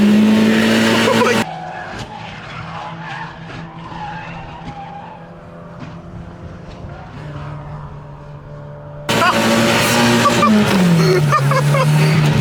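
A Mazda Miata drifting in Mexico City, its tires squealing loudly over a revving engine, with a quieter middle stretch where the squeal fades before the loud skidding returns.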